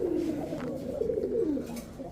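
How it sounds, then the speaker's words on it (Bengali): A large silver pigeon gives a low, rolling coo in two drawn-out phrases, close and clear against a quiet background. "এই যে দেখেন ভাই, পুরো এক হাত সাইজ, বিশাল সাইজের কবুতর।"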